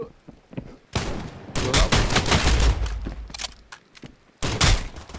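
Rapid bursts of video-game gunfire ring out in a multiplayer shootout, loud sharp volleys arriving in several clusters separated by brief lulls.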